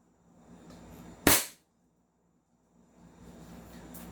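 A single sharp, close crack from an upgraded airsoft rifle firing, a brief loud pop standing out from faint room background, followed by quiet.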